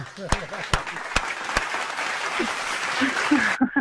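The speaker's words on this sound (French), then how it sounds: "Tiens, on t'applaudit" An audience at a French stand-up comedy show breaks into dense, sustained applause, opened by a few sharp separate claps and running continuously until a sudden cut near the end.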